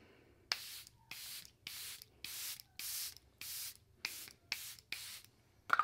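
Setting spray is misted onto a face in about nine short, close, hissing bursts, separated by brief pauses.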